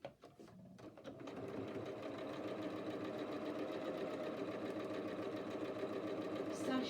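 Sewing machine stitching quilt sashing along the bottom edge, starting with a few stuttering stitches, then running in a steady, fast mechanical chatter that stays fairly quiet and close.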